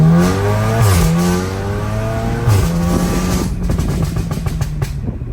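A big-turbo Volkswagen Mk8 Golf R engine revs hard and accelerates, its pitch climbing through gears with loud, throaty bursts and brief shifts between pulls.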